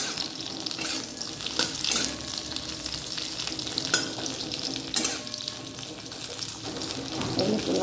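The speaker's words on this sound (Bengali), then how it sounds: "চলো আগে করলাগুলো ভেজে নিই।" Bitter gourd pieces fry in a pan for a Bengali shukto, a continuous close sizzle with several sharper scraping stirs, running water briefly audible in the background.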